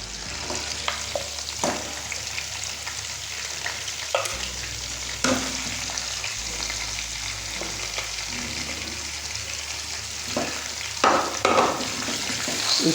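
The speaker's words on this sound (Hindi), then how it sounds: "इसको ऑयल के अंदर फ्राई करेंगे हल्की आंच पे, जब तक ये ब्राउन ना हो जाए" Pieces of mutton fry in hot oil over a low flame in a karahi, a steady sizzle running throughout with occasional scrapes and knocks of a spoon against the pan, close and unaccompanied by speech.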